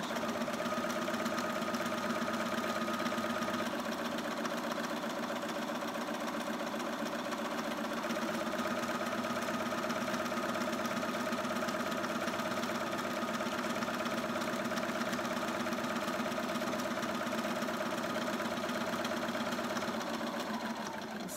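A sewing machine stitches fabric along the curved edge of a peg bag, running as a steady, even motor hum with a fast rhythmic needle clatter throughout, close by and uninterrupted.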